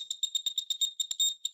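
An emGuarde radiation meter held near an iPhone 14 Pro Max gives rapid, steady electronic beeps, about a dozen high-pitched chirps in quick rhythm, close and clear with no talking.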